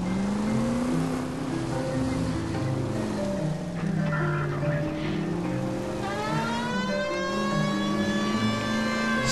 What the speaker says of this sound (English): Sirens. I really hope people get out of the way